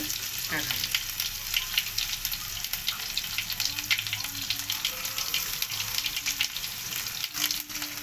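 Garlic and chillies frying in hot oil for a Maharashtrian dal tadka, a steady broadband sizzle running throughout with small crackles and a few faint scrapes, fairly close and continuous.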